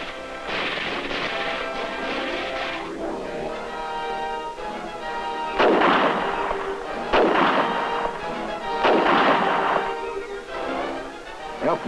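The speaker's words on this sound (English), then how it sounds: "As the enemy fights to defend the bridge, the Chinese bring up their heavy weapons." Heavy weapons fire during a joint military exercise in Taiwan, with loud, sustained booming and rumbling blasts that swell in repeated waves over a constant roar.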